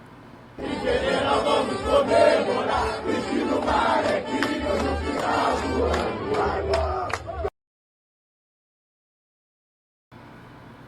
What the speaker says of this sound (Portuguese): Roda a nossa vinheta